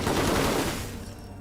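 Gunfire in the Wasteland 3 video game, a dense burst of shots that runs steadily and then fades over about a second and a half, with no talking.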